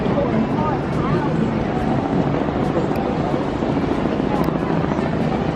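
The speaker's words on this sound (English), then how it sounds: "It's a helicopter flying." A helicopter's rhythmic thudding drones steadily overhead, moderately loud, with wind buffeting the microphone.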